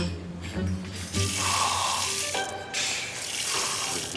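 A faucet turns on and water gushes into a sink in two bursts, with a brief pause and some clinking between them.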